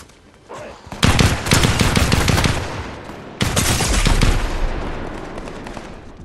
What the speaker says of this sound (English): I'm not sure where the fuck they are shooting me.